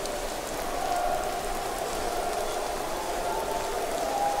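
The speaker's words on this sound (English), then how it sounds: "I really want to get out of this rain," Steady rain falling in the Honorless video game, a constant even hiss of drops on surfaces with no pauses, moderately loud and alone without voices.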